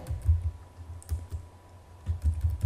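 Clusters of soft, quick keystrokes on a computer keyboard, in uneven bursts with short pauses, close and fairly quiet.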